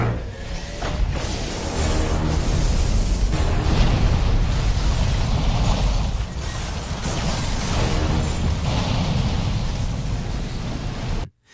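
A huge, sustained roaring blast from an explosion that destroys Martian war machines fills the scene, with crackling debris and rumbling that persists for several seconds before cutting off abruptly.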